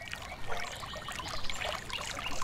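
River ambience in a medieval RPG video game, heard from inside a house and muffled by the walls: a steady, continuous wash of flowing, trickling water with no breaks.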